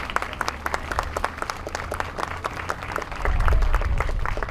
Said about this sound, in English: Give them a hand clap, please.